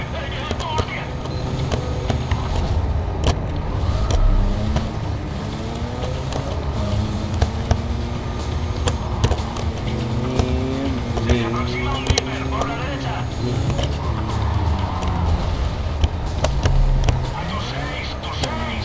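Race car engines whine and shift pitch while drifting around a track in the Need for Speed Carbon video game, steady and close throughout, with a voice talking over the game audio.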